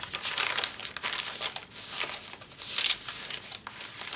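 A folded paper insert in a handmade journal being opened out, giving close, crisp crinkling and rustling in continuous bursts with a sharper crackle near the end.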